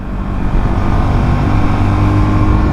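A Lexmoto LXS 125 motorcycle engine hums steadily while riding, a loud continuous low drone with wind rumble and no distinct gear-change break, with no talking.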